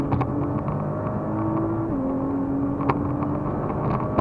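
Nissan GT-R on the Ułęż race track, engine droning steadily from inside the cabin as it accelerates smoothly, pitch holding then dropping slightly, with a couple of faint clicks and no talking.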